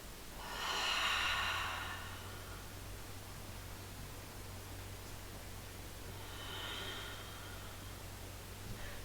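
An audible inhale during a Pilates exercise, soft and airy, comes at the start and swells for about a second, then a second, fainter breath arrives near the end over a steady low hum, with no talking.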